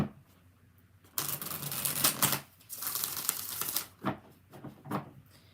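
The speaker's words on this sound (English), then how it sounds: "All right, 5 shuffles, Thalia." Crisp riffling of tarot cards being shuffled in several bursts, papery flutters and clicks separated by short pauses, close by with no talking.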